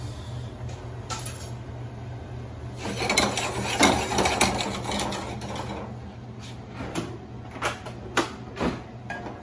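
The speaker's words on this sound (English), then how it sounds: "let the oil in the pan heat up, saute your hard veggies. So in this case, that's going to be just onions" Onions sautéing in hot oil in a pan for a pureed vegetable soup, with a steady low sizzle and a louder burst of stirring and scraping in the middle, then a few sharp utensil clicks near the end.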